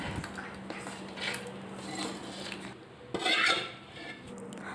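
Spicy Sundakkai kara kuzhambu curry is moved into another pot, with close metal scraping and clinking of a ladle against cookware in uneven strokes, the louder scrape coming near the end, and no voices.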